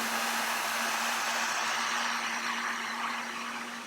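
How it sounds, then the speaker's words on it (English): A hair dryer or heat gun blows steadily while heating a phone to apply a dbrand skin, a constant close airflow roar with a low motor hum, unbroken and loud throughout, no voices. "So this is where the heat gun or hair dryer comes in."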